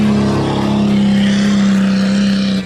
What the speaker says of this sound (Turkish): Onun için oraya girdiğimiz zaman devamlı patinaj çekiyoruz.